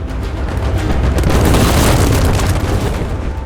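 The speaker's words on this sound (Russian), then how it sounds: "Пушки бьют по каменным стенам, пока, наконец, не удается пробить брешь." Cannons bombard the stone walls of the Ottoman-held city of Jaffa during a siege, heard as a continuous loud rumbling roar of heavy booms and blasts that swells and holds for several seconds.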